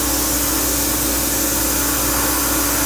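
Loud, steady hiss of compressed air driving a fine stream of soda through a small top-loading soda blasting cabinet as it strips plastic, constant and close with no pauses.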